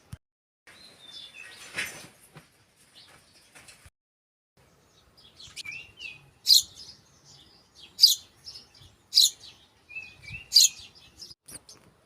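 Small birds chirp and tweet in short, scattered bursts, fairly faint at first and then sharper with several bright calls, heard alone against a quiet outdoor background.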